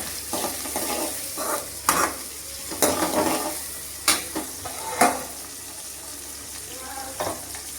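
Tomatoes sizzle as they sauté in a pan, stirred with repeated scraping strokes that rise over a steady frying crackle, close and moderately loud.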